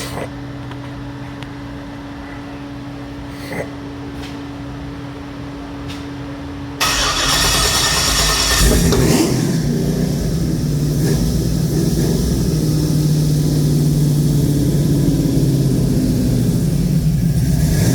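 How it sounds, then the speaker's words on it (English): A bored LS 5.3 V8 cranks and fires up partway through, then settles into a loud, steady, close idle that carries on to the end after a quieter stretch of background hum. "So now we're gonna fire it back up."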